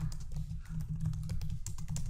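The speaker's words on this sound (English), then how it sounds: "my typing ain't going good so far" Fast, uneven typing on a computer keyboard, dense clicking keystrokes over a steady low hum, close and moderately loud with no speech.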